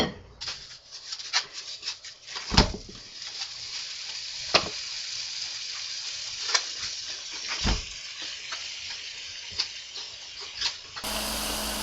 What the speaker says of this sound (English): Now, when you brown the meat, you've got to really brown that meat.